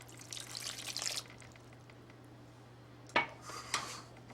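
A cup of water poured into white chocolate cake batter gives a brief soft watery rush, then a few sharp clinks of utensils against a bowl, with a low steady hum behind.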